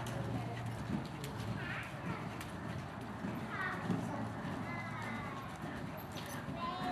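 Horse moving at a canter or gallop during a jumping clinic warmup in a riding arena, with steady hoof rhythm under constant background noise and an instructor's voice talking over it.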